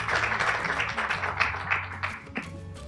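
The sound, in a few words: applause from workshop audience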